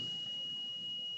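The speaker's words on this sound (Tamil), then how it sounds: "இப்போ பீப் சவுண்ட் கேட்குது." Steady high electronic beep from a multimeter on continuity mode as its probes touch a working jumper wire, a single unbroken tone held throughout over a faint background hiss.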